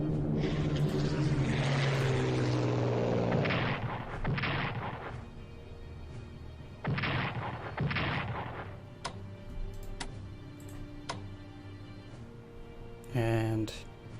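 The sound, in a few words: strategic bomber aircraft attack in Strategic Command video game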